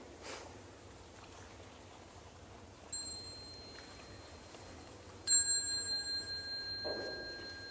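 A mindfulness bell in a Buddhist teaching hall sounds two clear, sustained metallic strikes, the first soft and brief, the second louder and ringing out with a long, slowly fading tone over quiet room ambience.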